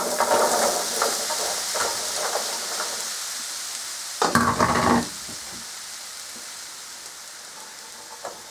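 Root vegetables sizzle in hot oil in a roasting tray, a steady close frying hiss with small crackles and a brief louder burst of spitting midway, with no voices.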